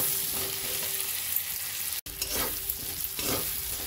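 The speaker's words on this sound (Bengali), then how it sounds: "এবার লো ফ্লেমে আমি একটু গাঠি কচুগুলোকে ভাজা ভাজা করে নেব" Pieces of gathi kochu (taro) fry gently in a pan on a low flame with a continuous soft sizzle. Repeated scraping strokes from stirring cut in and out, with a brief break in the middle.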